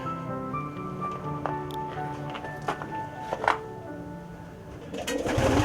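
Racing pigeons coo softly in a loft aviary, with low repeated murmuring calls and a few light taps and flutters nearby, steady and moderately close.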